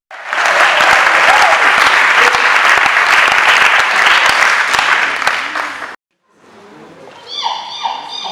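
Loud, vigorous applause from guests at a civil wedding ceremony in a town hall, sustained clapping for about six seconds that cuts off abruptly, followed by quieter room sounds.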